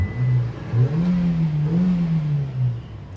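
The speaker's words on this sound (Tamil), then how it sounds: "வண்டி ஸ்டார்ட் ஆயிடுச்சு" A vehicle engine runs at a steady low idle just after starting, close by, holding an even hum with slight pitch wobbles throughout.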